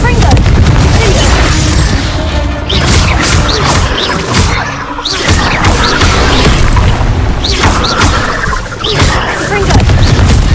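Confringo blasting spells exploding in Hogwarts Legacy, a loud run of booming blasts and crashes with whooshes in between, dense and close throughout.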